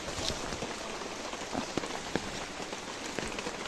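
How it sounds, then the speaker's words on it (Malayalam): Heavy, steady rain pours across a farm plot with coconut palms, a dense continuous hiss of drops close by, with a few sharper splashes standing out. "നല്ല മഴയാണ് ഇങ്ങോട്ട്."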